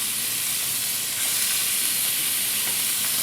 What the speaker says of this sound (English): So you saute it until it's brown on both sides